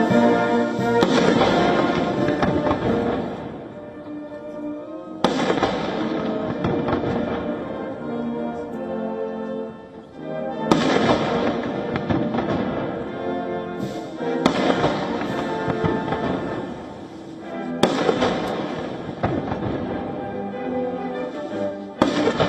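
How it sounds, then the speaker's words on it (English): Cannon rounds of a 21-gun salute fired at a military honor ceremony: about six loud, booming blasts at intervals of a few seconds, each with a long echoing decay that overlaps the next. "While Trump alongside Xi inspected military honor guards and received a 21-gun salute."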